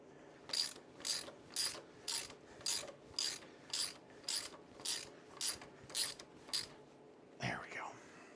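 Hand ratchet tightening bolts on the primary cover of a Harley-Davidson M8 Softail, about eleven evenly spaced rasping clicks, close and clear, followed by a short scrape at the end.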